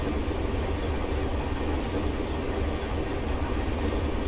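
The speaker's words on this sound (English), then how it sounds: "See our train moving there." A mixed freight train rolls steadily along the Rio Grande line near Salt Lake City in Train Simulator 2022, a constant dense rumble of wheels and rail noise heard from the caboose, loud and unbroken throughout.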